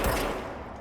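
A brief, loud burst of enemy gunfire in the video game Control, a dense crackling volley that fades slightly.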